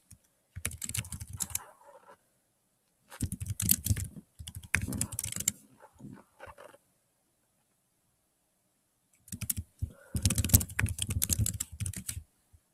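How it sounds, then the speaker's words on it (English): Fingers typing a prompt on a computer keyboard, heard as three bursts of rapid, close clicking separated by quiet pauses. "I am going to just type in the prompt that I have already picked out"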